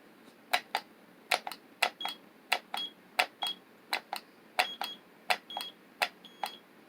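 A Sunko 737DH battery spot welder fires in a rapid series of sharp snapping clicks, each followed by a short electronic beep, repeating about twice a second at close range over a quiet background.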